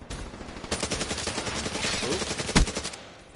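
Rapid automatic gunfire from a competitive video game match between THC and XOMB, dense bursts of shots crackling continuously with a sharper, louder crack near the end, fairly close and prominent.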